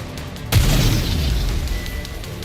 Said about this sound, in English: The explosions aren't stable.